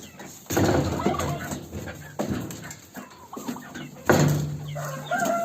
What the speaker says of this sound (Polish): To jest kogut duży bojowiec